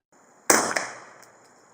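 A single suppressed firearm shot rings out sharply after a quiet start, a loud close crack that decays over about a second with a faint echoing tail.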